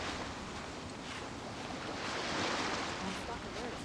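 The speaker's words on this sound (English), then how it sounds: "Waves are as calm as always." Ocean waves wash around a sailing ship in the Genshin Impact video game, aboard the Alcor; a steady, even roar of surf and wind noise fills the scene without a break.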